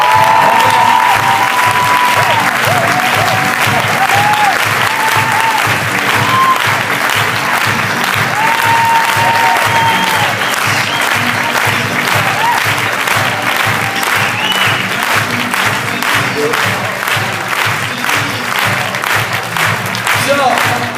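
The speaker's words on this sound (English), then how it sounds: "And give Angela the round of applause she deserves." A large audience claps steadily and loudly for a long stretch at a weight loss story presentation, with scattered cheers and a few voices heard over the dense applause.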